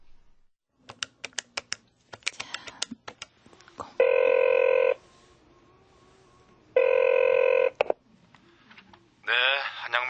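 Quick beeps of phone buttons being pressed, then two long electronic telephone rings separated by a pause, with a voice picking up at the end.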